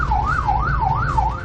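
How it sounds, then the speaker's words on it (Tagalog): An ambulance stuck in traffic on a narrow road near Macabebe wails its siren in a smooth rising-and-falling cycle, loud and steady over a low rumble of idling road traffic. "Isang ambulansya nga ang naipit sa traffic."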